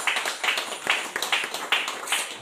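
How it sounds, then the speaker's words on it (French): A church congregation claps in a quick, steady rhythm, loud and close, with many hands striking together in unison. "Applaudissons le Seigneur."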